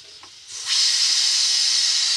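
Curry leaves hit hot oil in a pan for a Kerala-style chicken curry, bursting into a loud, steady sizzling hiss after a quieter start and holding close and continuous to the end, with no talking.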